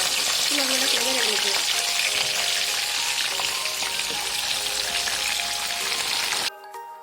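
Mango pieces hiss and sizzle steadily in a hot pan with spices for a sour, spicy-sweet pickle, a loud continuous frying sound that cuts off abruptly near the end.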